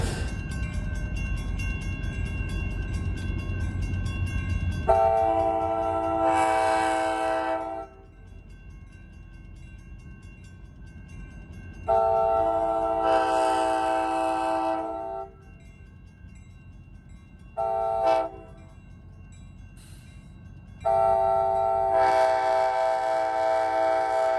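An EMD GP30 diesel locomotive built in the early 1960s, hauling a ride train on the Nevada Southern Railway, sounds several loud, sustained horn blasts over a steady engine and rail rumble, with no talking.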